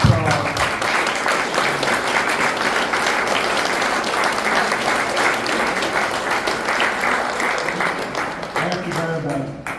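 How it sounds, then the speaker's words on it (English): Members at a Korean War veterans commemoration ceremony applaud in a dense, continuous round of clapping that stays loud throughout, with speech emerging as it tapers at the end. "Round of applause."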